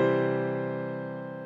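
Piano plays a short passage in which a right-hand C is tied across a bar line, the sustained notes ringing steadily and fading slowly, heard alone.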